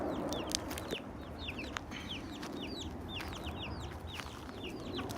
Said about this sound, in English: Here's our rooster, Marty McFly.